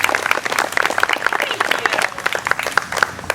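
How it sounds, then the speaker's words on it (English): Steady clapping from an outdoor crowd at an OCD awareness walk in Atlanta, welcoming the master of ceremonies; dense, fairly close and loud, with no talk over it. "give a big round of applause to Susan"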